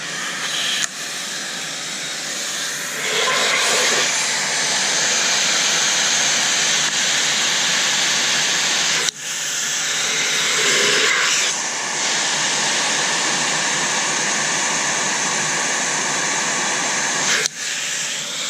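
An Aerus Lux Guardian Platinum vacuum cleaner runs with a steady, loud airflow hiss across the whole stretch, briefly dipping twice as the adapter seals, with no talk over it.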